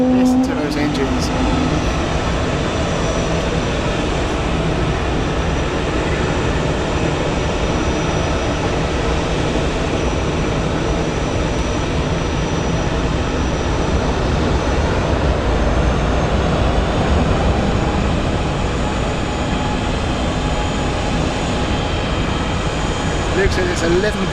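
Aircraft engines at Zurich Airport make a loud, steady roar and hum that fills the whole stretch without letup.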